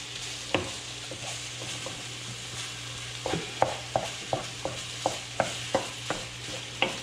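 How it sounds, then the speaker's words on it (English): Ground pork sizzles steadily in a pan under a run of sharp, regular scraping taps as a spoon stirs and chops into the meat, close and alone with no talking. "That's really a sizzle at this point."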